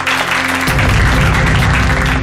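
A crowd at a political election rally breaks into loud, dense applause that swells after a brief start and continues steadily, close and without talk.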